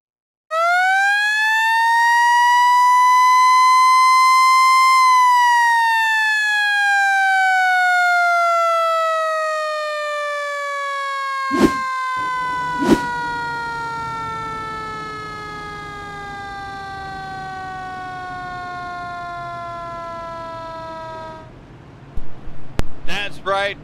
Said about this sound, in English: team on team crimes here get a siren as Keller and Bednarz make contact